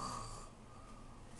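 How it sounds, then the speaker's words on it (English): A person asleep snores loudly, one rough snorting inhalation that fades into a softer breathy rumble, close and alone. "It seems that our next guest has fallen asleep and is snoring quite loudly."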